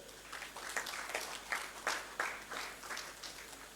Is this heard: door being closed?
no